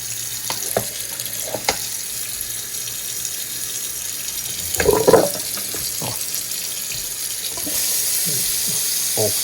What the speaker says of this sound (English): because I want to make sure we get plenty of water on this